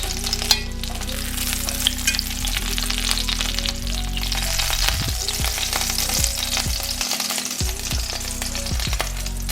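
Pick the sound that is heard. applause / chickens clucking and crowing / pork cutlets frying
pork cutlets frying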